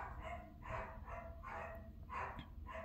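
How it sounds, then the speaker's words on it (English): Dogs bark in response to a doorbell indoors, five rhythmic bursts of barking spaced about half a second apart, fairly faint and somewhat distant, with no talking over them. "Excuse my dogs. Someone just rang my doorbell."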